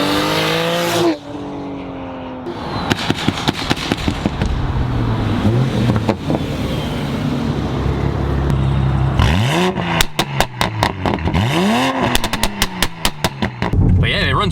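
A big-turbo 2020 Toyota Supra pulls hard through the gears on a street drive, loud engine rising in repeated sweeping climbs with sharp drops at each shift and crackling pops, with talk inside the car.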